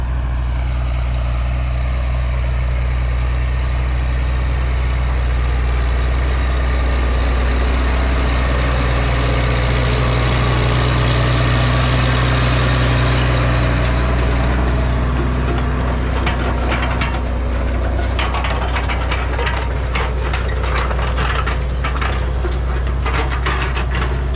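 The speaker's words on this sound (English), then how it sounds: "I think it's an 11 litre Cummins in it." An 11 litre Cummins truck engine idling nearby, a loud steady low rumble that holds constant throughout with a faint rattle on top.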